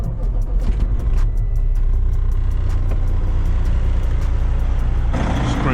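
Loud, close idle of a Kenworth W900 heavy haul truck engine, a deep continuous rumble with regular ticking clatter, swelling into a harsher roar near the end.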